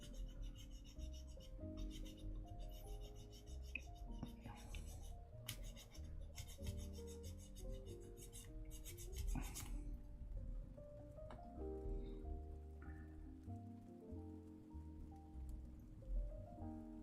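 A file rasps at the leftover gate nub on a plastic model kit part in short, close scraping strokes, steady and fairly quiet, with small clicks of handling between passes.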